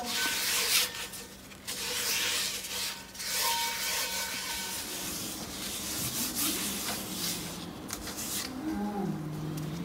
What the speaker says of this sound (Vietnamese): Mình lau đều hết cái mặt chảo nè, cái bề mặt chảo nè, mình lau vòng lên trên luôn